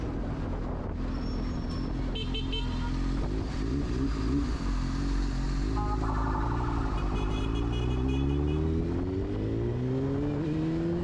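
Busy street traffic on Sooter Street, heard from a moving motorcycle: a steady engine drone with rising and falling revs, passing vehicles and brief horn-like tones, loud and continuous throughout.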